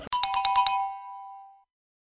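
A phone ringtone plays up close: a quick burst of about six bright, evenly spaced chiming notes, then one sustained tone that fades out into silence.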